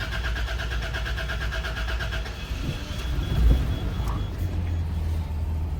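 An 80 Series Land Cruiser engine cranks for a few seconds, with a repeating starter whine, then catches and settles into a steady low idle, recorded up close with no talking.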